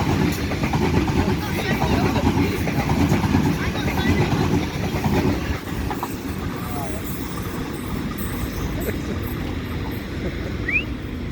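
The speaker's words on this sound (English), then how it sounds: "And a Waratah B set. And another Waratah B set." A Sydney Waratah B set train passes: a steady, fairly loud rolling rumble with motor drone from the rails, easing a little after about 5.5 s, and a voice talking over it.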